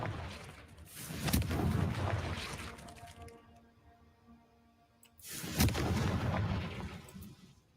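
Fiery Confringo spell blasts in a Harry Potter video game inside a cave, two heavy booming explosions with crackling bursts and rumbling tails, separated by a brief quieter stretch.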